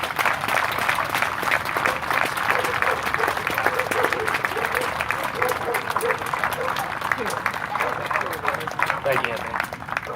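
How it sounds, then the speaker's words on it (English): Steady applause from an audience at a K9 race event, dense clapping sustained for the full length with a few voices and cheers mixed in. "I would just like to have a round of applause for Jeff DeYoung"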